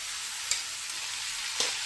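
Soaked mung dal drops into frying dill greens with turmeric, a close, bright sizzle running steadily with two brief clatters of ingredients and stirring.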